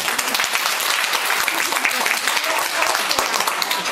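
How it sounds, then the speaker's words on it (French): Audience applauding at a Chinese calligraphy contest, loud and close, a busy continuous clatter of many hands clapping throughout with no pause. "Il faut applaudir, bien sûr."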